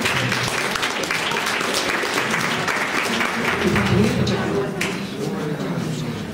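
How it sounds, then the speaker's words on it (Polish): Sustained applause from an audience at a religious song contest, dense and steady for several seconds, with a brief voice rising under the clapping toward the end. "Brawa."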